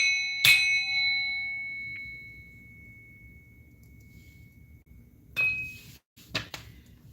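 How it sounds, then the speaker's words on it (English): A single bright metallic bell strike rings out clearly and decays slowly over a couple of seconds, followed later by a few softer clinks and knocks in an otherwise quiet room. "I'm going to bang this bell to remove all negative energies"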